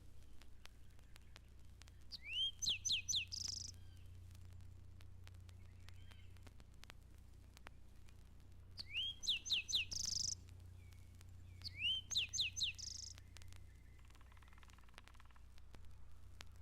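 A robin-like songbird sings three short, bright phrases of rising whistled notes at Mountain Lake Sanctuary in central Florida, moderately near, over a steady low hum with faint insect chirring between phrases.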